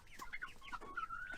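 Golden chickens cluck in a coop, a quiet string of short clucks and squawks overlapping in a busy flock, faint and close.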